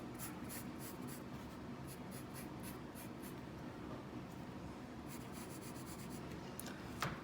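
A pencil scratches steadily across paper while sketching a rough knife design, a close, continuous dry rasp with faint rhythmic strokes.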